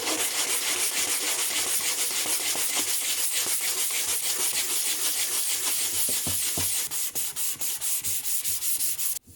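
Continuous close hand-sanding of body filler on a Toyota Starlet rear spoiler, a steady dense rasping scrub with rhythmic strokes that turn into short separate passes near the end.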